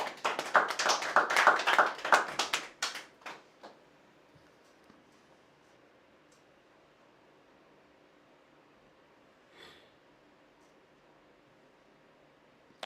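A burst of audience applause lasts a few seconds, then fades quickly into near silence with a faint thump later.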